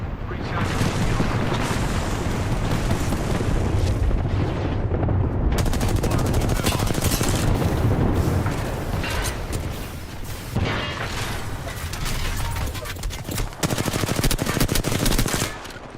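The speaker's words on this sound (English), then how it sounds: "Stand back, knuckle cluster's firing." Fuse's knuckle cluster in Apex Legends fires a sustained barrage of explosive bursts, loud and dense with rapid popping detonations and booming gunfire throughout, with game voice lines mixed in.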